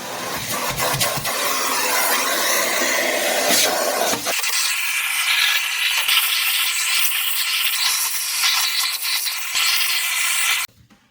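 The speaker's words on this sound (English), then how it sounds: "we can get rid of all that dust with the vacuum cleaner" A loud vacuum cleaner removes dust from an Atari 400 computer during restoration, with a steady whooshing hiss and shifting rumble as it is moved around, then cuts off abruptly at the end.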